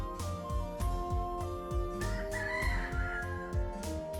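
Chickens in the video game Dotage cluck in a steady rhythmic loop while a rooster crows once in the middle, over repeating game music with no talk.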